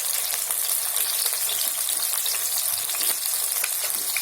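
Brinjal frying in a pan of oil, a continuous close sizzle with faint stirring taps, steady and moderately loud with no voices.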